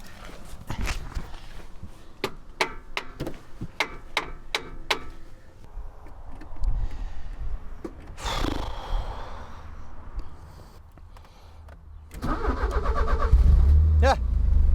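A hammer bangs sharply on the starter of a Porsche 944 in a series of metallic knocks. Shuffling and cranking noise follow, then the engine catches and settles into a deep rumbling idle near the end.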